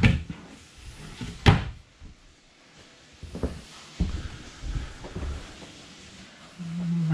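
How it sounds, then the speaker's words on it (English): Ball bearing glide drawers in a 2020 Grand Design Imagine 2970RL travel trailer kitchen opening and closing, several sharp clacks and sliding thumps at irregular intervals, close, with quiet gaps between. "Nice ball bearing door glide drawers."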